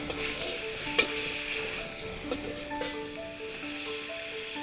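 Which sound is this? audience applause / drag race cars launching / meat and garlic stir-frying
meat and garlic stir-frying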